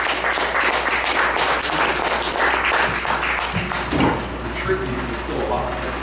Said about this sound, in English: let's all give a big round of applause for our next poet